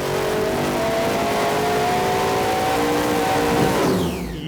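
A Grave Digger monster truck engine of 1,500 horsepower roars loudly on a dyno test pull, a sustained high-rpm drone with steady tonal whine that holds near, then drops off at the end.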